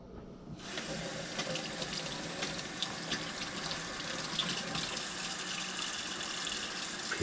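Tap water runs steadily into a sink while a rutabaga is washed, starting abruptly after a brief quiet moment and continuing as a constant close splashing gush with no talking.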